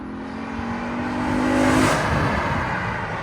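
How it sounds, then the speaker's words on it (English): A Lexus RC F with a 5.0L V8 and aftermarket exhaust drives past with the valves closed, its engine note swelling as it nears and fading away, with no talking. "This is with the valves closed, drive by. Lexus RCF."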